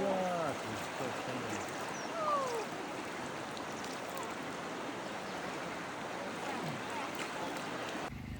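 Broad, steady rushing of the Southern Bug river flowing over rapids, a constant full-bodied roar with a few faint chirps near the start.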